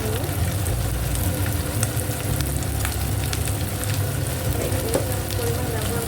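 Spices with chili and turmeric powder sizzle steadily in a hot pan while being sautéed for a cauliflower and egg curry, a loud continuous frying hiss with faint scraping of stirring underneath.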